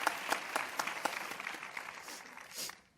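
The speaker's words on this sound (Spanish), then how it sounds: "Me dicen por el pinganillo que es la hora de aplaudir" Scattered applause from a studio audience at a televised teachers' debate, individual claps distinct at first and thinning toward the end, fairly faint and distant.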